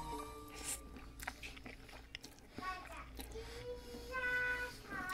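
Spicy hot chicken flavor instant noodles and rice being eaten, with quiet, close chewing and soft crunchy bites repeating through the clip, faint overall.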